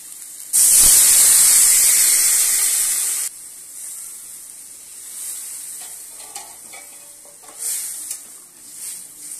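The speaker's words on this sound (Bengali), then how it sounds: "এখন জল দিয়ে দেব।" Water poured into a hot pan of sautéed potato and vegetable stems for a curry, a loud close burst of sizzle and steam lasting a few seconds, then fading to quieter bubbling and clinks.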